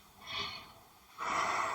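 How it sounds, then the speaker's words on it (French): Deliberate breathing exercise: a short sharp inhale through the nose, a pause, then a longer forceful exhale, close and fairly faint, with no talking. "Je vais faire un petit exercice de respiration."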